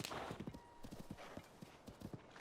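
Horse hooves in The Legend of Zelda: Tears of the Kingdom, a quick rhythmic clip-clop of galloping riding, quiet and steady throughout with a faint background hum.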